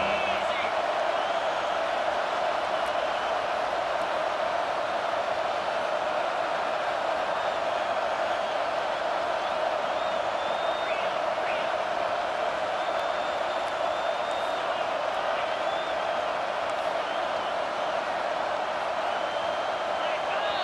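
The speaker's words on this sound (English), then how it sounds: "Decibels rising as the crowd gets behind this defense on third down." A stadium crowd at an Arkansas versus Alabama college football game roars for the defense on third down, a sustained, even wall of noise under an announcer's voice.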